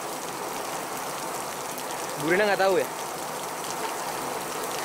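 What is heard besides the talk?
rain falling outdoors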